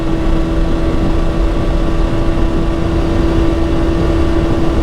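A loud, steady engine drone from a 2026 BMW M1000RR sport motorcycle with a full Akrapovic exhaust holds a strong constant hum at a fairly even pitch, close by and uninterrupted, with no voices.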